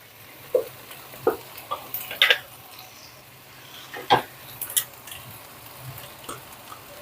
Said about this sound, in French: Je vais rajouter les courgettes.